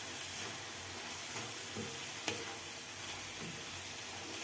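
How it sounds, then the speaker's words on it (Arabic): Musakhan filling with ground cardamom stirred in a pan, a steady low sizzle of frying with soft scraping from the spoon and a small clink midway, fairly quiet and with no talking. "نستمر في التحريك."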